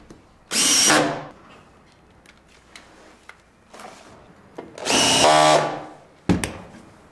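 A power drill drives a SPAX screw into a wooden pillar in two loud whirring bursts, the second longer and straining, with small ticks and clicks from the wood and tool between them.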